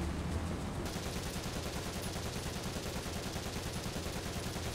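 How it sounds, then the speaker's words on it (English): A Hetzer tank's machine gun fires in sustained, rapid, unbroken bursts in a World War II tank video game, a dense rattling stream of shots heard continuously throughout. "This Hetzer's just non-stop MG."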